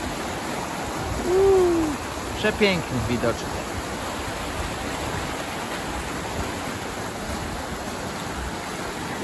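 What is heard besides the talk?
waterfall and flowing water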